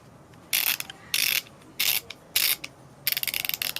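Icon 1/2 inch flex head ratchet clicking in five separate bursts of rapid ratcheting, close and crisp, the last burst breaking into distinct individual clicks.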